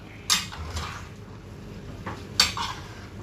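Chicken for Thai basil stir-fry is stirred in a pan with a metal utensil, giving two sharp scraping clatters against the pan over a low, faint background hiss.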